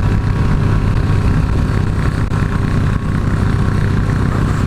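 Honda Elite 125 scooter engine held at full throttle while climbing a hill with a passenger aboard, a loud, steady droning hum with constant wind rush, close and continuous throughout.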